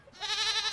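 A cartoon goat gives one sustained, quavering bleat that rises sharply at the start and holds steady and close, with no voices.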